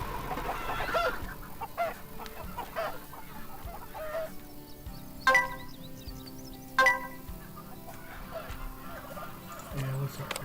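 Turkeys gobble on a farm in the management game Farm Manager 2021. Clucking calls repeat against a busy farmyard background, and two sharper, louder bursts stand out midway. No one speaks.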